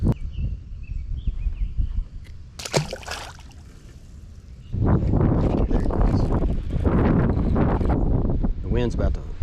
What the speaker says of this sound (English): wind's about to blow me off the lake